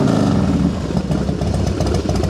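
A Harley-Davidson Fat Boy FLSTF motorcycle with a Mikuni carburetor runs cold, its engine idling with a steady, loud, close low-pitched rumble throughout.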